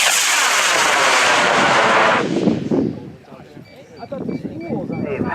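A high power rocket launching outdoors: a loud roaring rush of exhaust that tails off after a couple of seconds, followed by wind buffeting and distant crowd voices.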